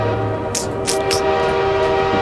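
A train rolls by in Half-Life 2, a steady, fairly loud rumble with a low horn-like tone and bursts of bright hissing and clanking, with no talk over it.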